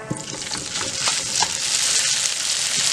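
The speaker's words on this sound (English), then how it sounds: "now we're going to go ahead and add the rice back to the pot" Cooled rice goes back into a hot pot for a shrimp, Italian sausage and chorizo paella, raising a bright, steady sizzle with scraping stir sounds and a soft clunk near the start.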